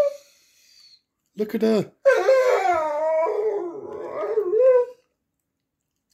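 A greyhound moans and howls for a treat in long wavering whines, loud and close, with a short burst of yips, and a person speaks briefly.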